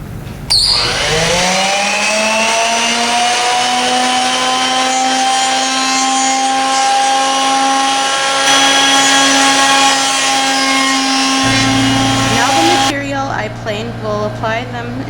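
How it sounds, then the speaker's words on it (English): A wood jointer planes boards for reuse, its steady loud motor whine holding with strong harmonics for about twelve seconds before spinning down, with a shift in pitch near the end. "will now plane each side on the joiner"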